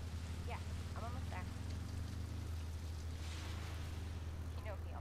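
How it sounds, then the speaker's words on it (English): In Resident Evil 2 Remake, steady rain and wind roar around a moving motorcycle, a constant dense wash with low engine rumble, while a voice talks intermittently over it. "Riding a motorcycle in the rain."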